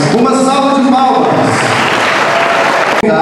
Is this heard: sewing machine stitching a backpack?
no